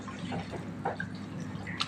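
Grape leaves for Aleppo-style yabrak are dipped into a pot of water, giving soft drips and small splashes close by over a low background hum, with no talking.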